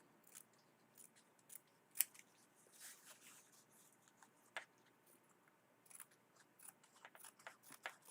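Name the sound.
scissors trimming extra fabric off EPP hexies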